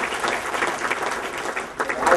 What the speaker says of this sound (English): we should give a round of applause to